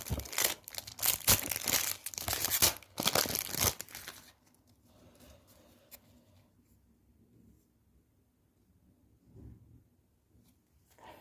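A Panini Premier League 2019-2020 football sticker pack is torn open, with a burst of loud crinkling and ripping foil for about four seconds, then quiet faint rustling of the stickers.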